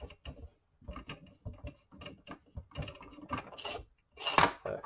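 Barrel of an MG100 AK kit being unscrewed, a series of small close metallic clicks and scrapes in irregular bursts, quiet and ending in a louder rasp.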